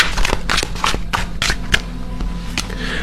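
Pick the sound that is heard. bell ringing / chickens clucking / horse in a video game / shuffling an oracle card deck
shuffling an oracle card deck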